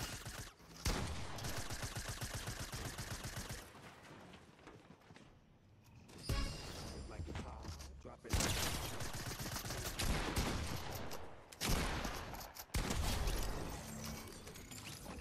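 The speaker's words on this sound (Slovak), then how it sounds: "SMGčko je moja obľúbená zbraň" SMG fire in Fortnite bursts in long rapid volleys, loud and close, broken by short gaps and a quieter stretch, with mechanical clicks between the bursts and no talk.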